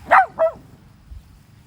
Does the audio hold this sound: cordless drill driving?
no